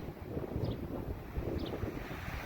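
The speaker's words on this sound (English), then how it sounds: "See, here comes a big wind." Strong gust of wind buffeting an outdoor microphone, a steady low rumbling roar that swells and surges throughout with no speech.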